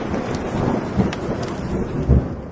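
A thunderstorm sound effect: a dense wash of heavy rain with low rumbling thunder rolling underneath and a few sharper thuds, loud and continuous with no voices.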